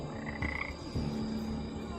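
Tiny frogs in the LEGO Jurassic World video game give two close croaks about half a second apart, each a low, throaty, pulsing call, set over a quiet game background with a faint tone.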